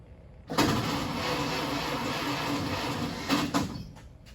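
The engine of a 1931 Franklin 153 Deluxe Coupe cranks and catches, then runs with a steady mid-pitched idle, nearby and moderately loud, with a brief surge near the end before it quickly dies away.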